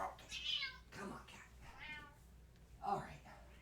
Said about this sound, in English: I'm going to move the cat. It's driving me crazy.